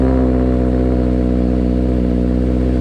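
A 2021 Subaru Crosstrek 2.0-liter running a Nameless Performance axleback 5-inch muffler exhaust holds a steady, loud, deep drone with a rich low rumble that stays constant throughout, without any talking.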